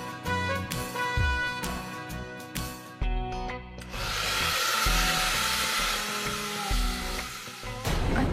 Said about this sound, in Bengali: ড্রায়ার দিয়ে শুকিয়ে দিই।